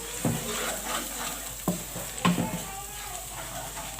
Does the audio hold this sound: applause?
no